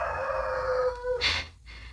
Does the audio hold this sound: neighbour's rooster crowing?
yes